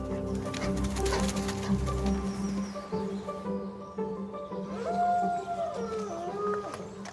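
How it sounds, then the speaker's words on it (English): Several Arctic wolves howl together, long rising and falling wails overlapping close by, with a lower rumbling chorus early on and a clear wavering howl near the end. "Got to pinch myself sometimes because I'm hearing wolves howling."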